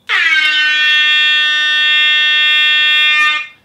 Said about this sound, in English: let me play the exception alarm